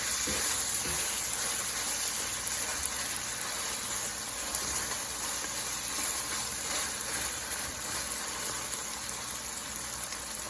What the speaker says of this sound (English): The stir fry or the meat is frying up very nicely.